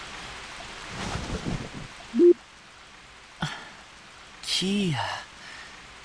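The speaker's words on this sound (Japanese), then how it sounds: "今日は雨か。" Soft, steady rain hiss falls throughout a scene in the video game Trails of Azure, with a few brief game sound effects and a short voiced cry on top.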